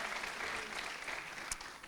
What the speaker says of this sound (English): he's applauding because I didn't get vegan food